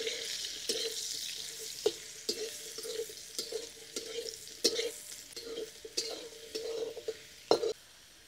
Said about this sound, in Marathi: आपले मशरूम फ्राय होत आहे